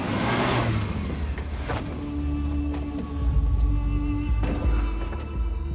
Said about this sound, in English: With the truck still stuck fast, Roger knows he's got to come up with something to get his new family home to safety